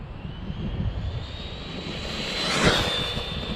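A Traxxas Drag Slash RC car makes a speed run, its motor whine rising as it approaches and peaking in a quick pass-by before fading, heard from a moderate distance over outdoor background noise.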